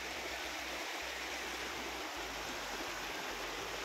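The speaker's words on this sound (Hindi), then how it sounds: "उसमें से एक झरना ये है," Mountain waterfall on the Srikhand Mahadev trek, a constant close rush of tumbling water holding an even level throughout, with no voices.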